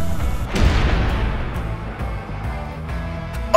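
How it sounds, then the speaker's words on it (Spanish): A Cabañas 4.5 bolt-action air rifle fired at a Coca-Cola can about 10 meters away: a single sharp crack with an impact, followed by quieter room ambience. "vamos a ver cómo le va a la lata de Coca-Cola disparándole"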